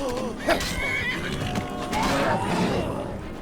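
A horse neighs in drawn-out, wavering calls against a cluttered background from Skyrim Special Edition, with faint hoofbeats and mechanical creaks.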